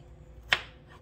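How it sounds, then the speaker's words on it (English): A single sharp knife chop into watermelon on a cutting board, one brief crisp impact after a quiet moment, with a short fading tail and a faint hum in the background. "Go ahead and cut that one up."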